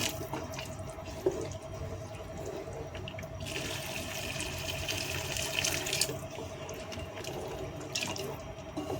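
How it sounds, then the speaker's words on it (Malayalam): Hot water poured in small amounts into a cooking pot while making chicken majboos, a thin trickling and splashing that swells for a few seconds in the middle, with a faint steady hum underneath and no talking. "നമുക്ക് ചൂടുവെള്ളം അല്പം അല്പമായിട്ട് ഒഴിച്ചു കൊടുക്കാം"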